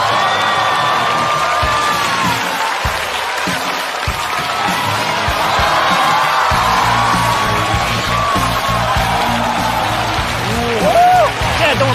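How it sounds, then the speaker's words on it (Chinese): A comedy show audience applauds and cheers to welcome a firefighter performer on stage, giving loud sustained clapping with whoops and shouts across the whole stretch, then a rise in crowd noise near the end. "掌声欢迎"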